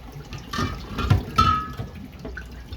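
Bleach solution draining out of culture containers that have soaked for a day, heard as irregular splashing and dribbling water with a few louder gushes, fairly close and alone.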